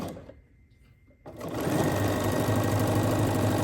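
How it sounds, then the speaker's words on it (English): After a brief quiet pause, a sewing machine starts stitching along a marked line on a quilt block, running in a fast, steady, close whir. "Sew down your drawn line."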